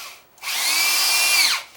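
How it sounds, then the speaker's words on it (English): A power drill drives a screw into plywood: a single close, whining burst of the motor that holds steady for about a second before spinning down, with no voices. "let me throw some screws in this thing"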